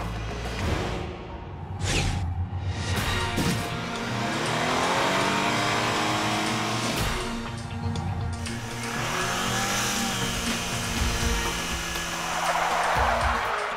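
Remote control race cars racing on a track, a continuous loud whine of motors revving up and down with rising and falling pitch sweeps and a brief screech, no talk.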